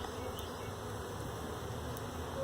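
Bees swarm around an opened hive brood box during an inspection, giving a dense, continuous buzzing drone that stays close and steady throughout, with no voices.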